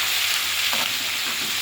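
Magur catfish pieces frying in a wok (kadai), giving a steady close hiss and sizzle of hot oil that runs unbroken throughout.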